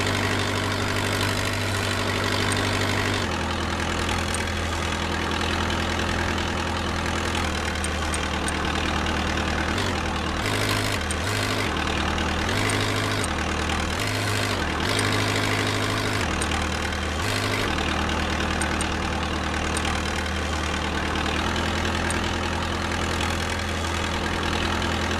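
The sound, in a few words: forklift engine idling in a virtual reality training simulation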